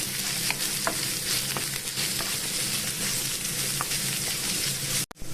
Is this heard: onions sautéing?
yes